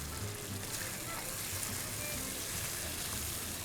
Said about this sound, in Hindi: हमने ये मसाले जो डाले हैं इनकी भुनाई ज़रा ज़रूरी होती है।